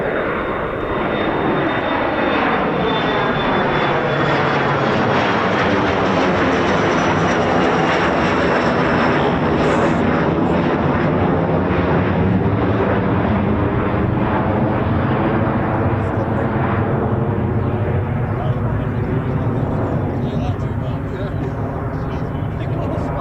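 An aircraft departs at an air show with a loud, sustained engine roar whose pitch shifts slowly as it climbs away, continuous for over twenty seconds.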